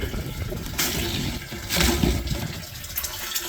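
Water drains through the pipe of a Dutch bucket aquaponics system, a close, gurgling rush with surges and splashy bursts that swell and ebb over a few seconds.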